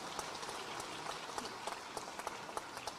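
A large crowd at an outdoor political rally in Madhya Pradesh claps steadily, a dense patter of many hands heard from a distance.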